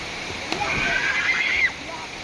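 Water splashing and sloshing as children play in overflowing water at an outdoor water pool, brief uneven splashes with a high voice or squeal rising over the noise.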